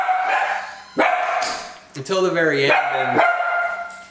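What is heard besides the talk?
dogs barking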